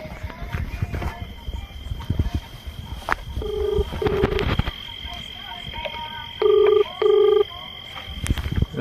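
Telephone keypad tones sound as a call is dialed in a Gujarati comedy sketch: two short bursts of beeps, then two louder, longer tones, heard over people talking and background noise.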